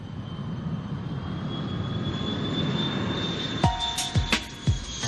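Giant passenger airplanes land at Kansai Airport in Japan, a steady jet engine roar holding throughout, joined near the end by a few sharp transient bangs.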